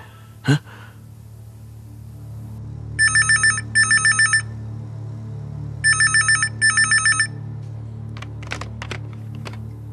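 A telephone rings on a call in a Tamil TV serial, two pairs of electronic ring bursts against a low hum, with a brief thud before and faint clicks after.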